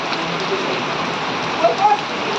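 Heavy rain pours steadily outdoors during a storm with large hailstones, a dense continuous hiss of drops on surfaces and no distinct voices.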